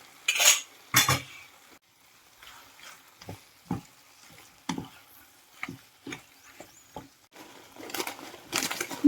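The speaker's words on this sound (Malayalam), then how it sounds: "ഇത് നന്നായിട്ടൊന്ന് ഇളക്കിയെടുക്കാം." Macaroni pasta is stirred in a pan with a utensil, giving sparse scraping knocks and clinks against the metal at an uneven pace, with a faint sizzle between strokes, close by and fairly quiet.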